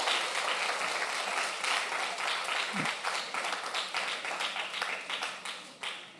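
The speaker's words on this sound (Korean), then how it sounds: "박수 해야죠" A church congregation in Sejong claps together during a worship service, producing steady, fairly loud applause that holds throughout with a brief dip midway.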